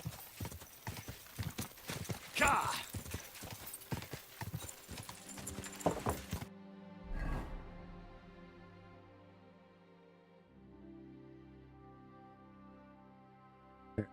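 Steady clip-clop of horse hooves at a trot in a medieval Bohemia video game, fairly loud and rhythmic, then stopping as a horse snorts and a soft ambient bed of tones continues.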